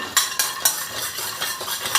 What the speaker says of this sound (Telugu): జీడిపప్పును కూడా లైట్గా ఫ్రై చేసుకోవాలి.